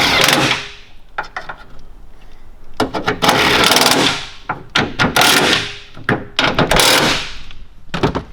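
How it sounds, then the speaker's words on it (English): Three bolts on a Ford Falcon FG boot lock actuator are driven home with a ratchet or power tool, giving close, loud bursts of whirring and clattering metallic clicks separated by short pauses. "Tighten up your 3 bolts."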